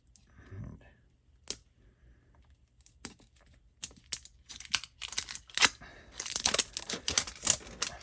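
Packaging of canned food being cut open during home cooking, with scattered sharp snips and crinkling bursts that grow busier and denser toward the end, heard close with brief speech early on.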